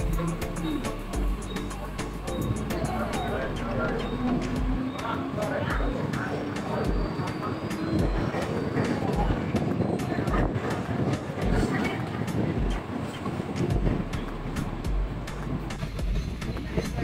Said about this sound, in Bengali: হাজী আলী থেকে ট্রেনে করে আমরা ফিরে যাচ্ছি আমাদের হোটেলে